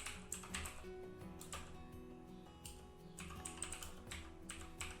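Quick, irregular clicking of computer keyboard keys, close and fairly soft, runs in short bursts with brief pauses over a faint steady hum.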